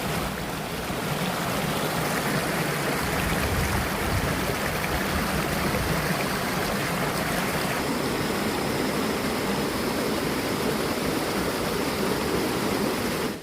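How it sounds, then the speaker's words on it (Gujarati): Water pours steadily down the Hathni Mata waterfall, a dense continuous rushing roar that stays loud and even throughout with no voices over it. "ઉપરથી નીચેની સાઈડ ઉપર અહીંયાથી પાણી જઈ રહ્યું છે"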